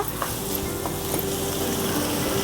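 Onion and green chili sautéing in a pan, giving a steady, dense sizzle with faint stirring clicks scattered through it. The level stays even from start to finish, with no voices.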